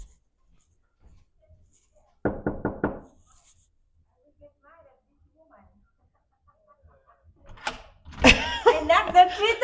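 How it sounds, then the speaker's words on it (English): Three quick knocks on a door, close and crisp after near silence, followed later by people talking. "I knocked that 3 times"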